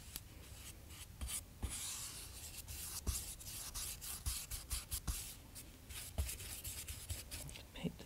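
Brush painting blue onto a canvas edged with tape, close and very quiet soft rubbing strokes in an irregular rhythm with slight scratchy bristle texture, no voices.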